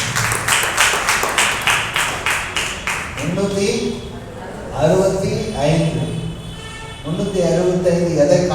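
A church congregation claps in unison, a fast run of sharp, regular claps for about three seconds, then someone speaks over a reverberant hall as clapping fades.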